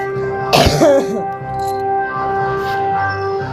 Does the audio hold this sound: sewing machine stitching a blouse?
no